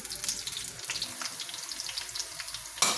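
Sliced onions fry to golden brown for a Hyderabadi chana degi pulao, giving a steady, close sizzle with a brief louder burst near the end.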